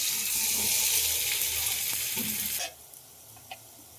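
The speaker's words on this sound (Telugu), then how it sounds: "స్టవ్ వెలిగించుకొని కళాయి పెట్టుకొని కొద్దిగా ఆయిల్ పోసుకోవాలి. ఇప్పుడు దోసపిండి వేసుకోవాలి." Rava dosa batter poured into a hot oiled pan sizzles loudly and close for a couple of seconds, then the hiss drops sharply to a faint crackle with a small clink.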